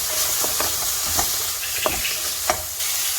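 Chopped onion and sweet pepper pieces fry in a pan with a steady close sizzle, broken by a few sharp scraping stirs and clinks, no talking.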